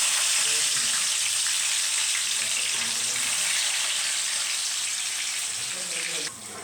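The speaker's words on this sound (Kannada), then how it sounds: "ಮೆಣಸಿನ್ಕಾಯಿನ ಫ್ರೈ ಮಾಡಾಕತ್ತೀವಿ" Green chillies fry in hot oil for upma, a loud, dense sizzling hiss that dips slightly near the end, with voices talking underneath.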